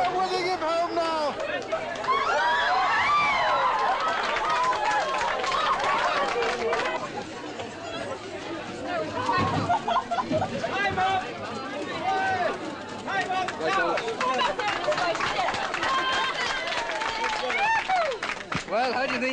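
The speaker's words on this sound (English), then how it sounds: "He's getting the most tremendous cheer from the crowd." A huge racecourse crowd at the Grand National cheers the racehorse Red Rum home, with a continuous roar of voices and clapping. A commentator talks over the noise.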